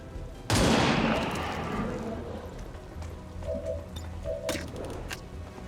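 A gunshot burst in XCOM 2 erupts loudly and suddenly, a sharp blast with a long crackling decay, followed by quieter clicks and mechanical clatter.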